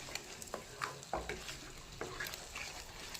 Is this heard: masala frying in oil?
yes